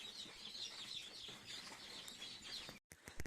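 A crowd of newly hatched broiler and laying-hen chicks cheeps nonstop in high, shrill peeps, close by and fairly loud, ending with a brief dropout and a clunk.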